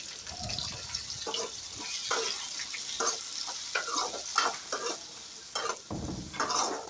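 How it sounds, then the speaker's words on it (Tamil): Tomatoes sauté in a pan for kurma: a soft frying sizzle sits under a run of quick, close scraping and stirring strokes at an uneven rhythm. "இது கூட கொஞ்சம் தக்காளி ஆட் பண்ணிக்கோங்க தக்காளியும் நல்லா வதங்கட்டும்"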